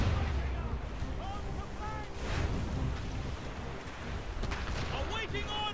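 Naval cannon fire during a ship battle aboard the Morrigan in Assassin's Creed Rogue, with booming blasts and splashes inside a dense, continuous roar of battle, while crew voices shout over the noise.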